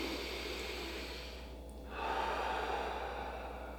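A single deep Wim Hof style inhale taken before a vegan gnocchi meal, a soft breathy rush that pauses briefly, then swells into a louder, fuller intake of air, close and alone.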